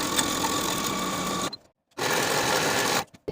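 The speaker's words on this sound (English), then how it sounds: "Sew that seam with a 3/8 inch seam allowance and then serge your seam to finish." Sewing machine stitching a bodice seam on a tank top, running in two steady bursts of rapid mechanical whirring with a brief pause between, close and loud with no talk.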